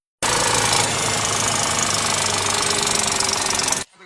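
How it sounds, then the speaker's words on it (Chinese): A 2020 Volkswagen Touareg engine, overhauled years earlier for burning oil, gives a loud, steady, rapid knocking clatter that runs without a break for several seconds and then stops abruptly. "5年前烧机油大修过的大众途锐发出了这样的声音。"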